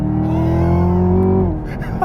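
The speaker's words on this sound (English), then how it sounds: "It really sounds like an old-time muscle car." A 2017–2018 Chevrolet Camaro ZL1's exhaust revs up in a loud, close, sustained engine note that climbs, holds, then drops off sharply after about a second and a half, leaving a lower rumble.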